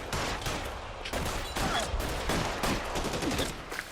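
A dense fusillade of game gunfire in L.A. Noire, rapid repeated shots and machine-gun bursts running steadily throughout at a loud, even level.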